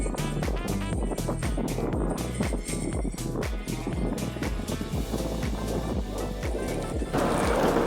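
Meepo Voyager electric skateboard riding along, its wheels rolling with a steady rhythmic clacking over pavement seams under constant rushing wind noise, loud and close throughout.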